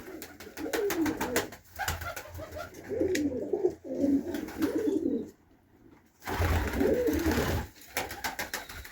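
Several pigeons coo in low, throaty bursts close by, overlapping inside a dry pigeon loft, with a short lull before the cooing picks up again.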